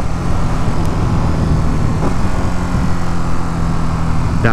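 Ducati motorcycle engine heard steady and close while downshifting on a road ride, a loud continuous droning rumble with heavy wind noise and no clear gear changes standing out.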